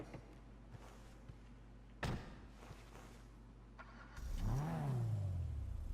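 A car engine in GTA Online idles faintly with a few clicks, then revs up sharply with a rising and falling engine whine that holds loud for the last couple of seconds.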